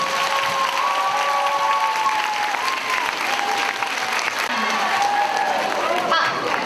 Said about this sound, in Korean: 우리 모두 그 학생들에게 격려의 힘찬 박수를, 응원의 박수를 쳐주십시오.